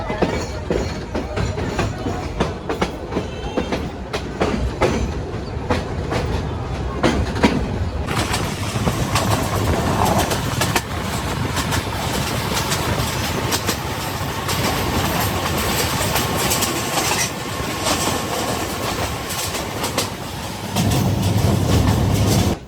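A commuter train leaving Joydebpur Junction toward Bhawal Gazipur rumbles steadily along the tracks, close and loud, with rhythmic wheel clatter and a heavier roar swelling near the end.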